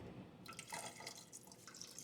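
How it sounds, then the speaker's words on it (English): Water poured from a container into a cooking pan at home for boiling potatoes, a steady splashing pour that starts after a brief pause and continues close and fairly quiet, with no talking. "Now I'm going to put the water in."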